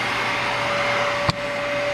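A Dyson Ball vacuum cleaner runs with a steady close-up whine and airy rush, broken by one brief click partway through.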